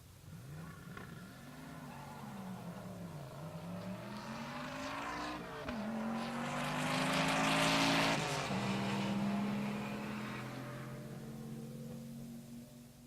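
Stick-shift class cars, including a BMW, launch and race down a drag strip at Pueblo Motorsports Park, engines rising and shifting, swelling louder as they pass mid-clip, then fading.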